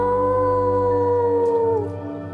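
A person imitates a wolf howling as Misphi, a long mournful sustained tone that slowly glides downward and tapers off, heard alone and fairly close.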